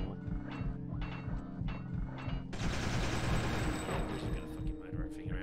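Automatic gunfire from heavy weapons in Fear Effect 2, rapid bursts of shots over a low hum, turning into a denser, louder barrage halfway through.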